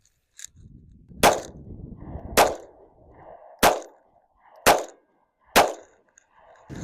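Five sharp gunshots from a Smith & Wesson Bodyguard 2.0 pocket pistol, fired one at a time at an irregular pace a second or so apart, each a loud close crack with a brief ringing tail.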